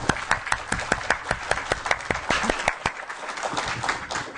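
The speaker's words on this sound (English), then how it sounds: "Let us applaud to them." An audience at a business school event claps in a steady round of applause, the individual claps distinct and fairly close, sustained for several seconds.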